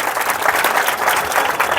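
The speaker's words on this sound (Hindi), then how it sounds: "बिल्कुल इनके लिए जोरदार ताली होनी चाहिए।" Loud, dense applause from a gathered audience honoring a teacher, steady sustained clapping heard alone without talk.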